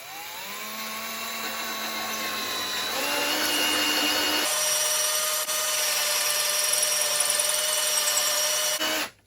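A wobbly hole saw on a power drill bores through wood, a sustained high whine that steps up in pitch as the speed rises, loud and continuous, then stops abruptly.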